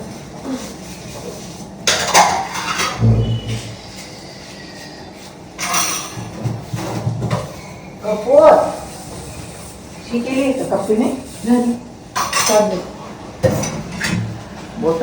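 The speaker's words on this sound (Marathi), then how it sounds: "भांड्यांवर भांडे पडत आहेत आणि आता भांडे घासून घेते" Pots and dishes clatter during washing up in a home kitchen, with repeated clinks and knocks coming in bursts while someone talks over them.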